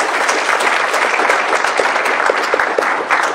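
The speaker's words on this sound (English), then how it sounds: "I would also like to give a round of applause to the Human Resources Department and all the" Applause from an audience at a leadership academy graduation ceremony, dense and steady clapping filling the room for a few seconds at fairly loud level, with individual claps popping out of the wash.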